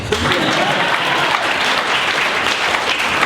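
Sustained applause from an audience, a dense steady wash of clapping lasting throughout, with no voices standing out.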